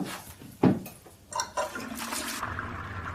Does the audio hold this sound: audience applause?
no